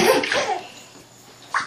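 Water sloshing and splashing in a bathtub as a child splashes, with the child's brief squeals and babble mixed in, ending in a sharp splash.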